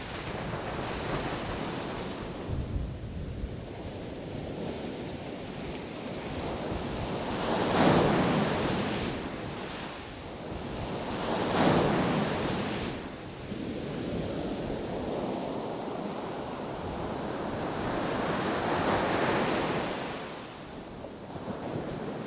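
Ocean waves break on the beach at Keta, a steady wash of surf with three louder surges rolling in and receding, accompanied by wind buffeting the microphone and no voices.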